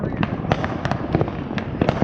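A firework lit on the ground rather than in a tube, bursting repeatedly in sharp crackling bangs about every quarter second, loud and close against a background of outdoor noise and voices.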